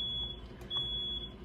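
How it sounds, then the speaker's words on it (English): A home smoke detector sounds its high, piercing electronic alarm tone, loud and nearly continuous with one brief dip, heard alone with no talking. "That's our fire alarm."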